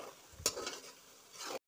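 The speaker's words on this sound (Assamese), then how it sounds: "কম জুইত দিলে মই ভাজি থাকিম।" Yakhni pulao ingredients fry gently in a pot over low heat, a soft sizzle with a sharp utensil scrape partway through and quiet stirring after, faint and without talk.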